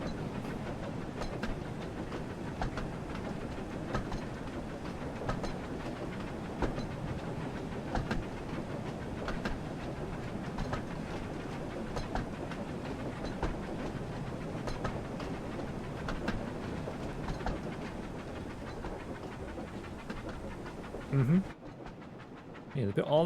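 In the Thomas & Friends: Wonders of Sodor video game, a steam engine chugs steadily through a dark tunnel with rhythmic puffing and rail clatter, running continuously before cutting out near the end.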